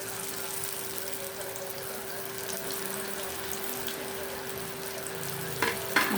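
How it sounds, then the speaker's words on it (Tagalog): Steady crackling sizzle of vegetable spring rolls (lumpiang gulay) frying in hot oil, continuous and close, with a brief clatter near the end. "Prito tayo ng lumpia."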